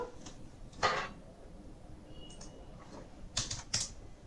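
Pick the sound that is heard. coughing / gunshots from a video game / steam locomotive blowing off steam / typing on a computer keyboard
typing on a computer keyboard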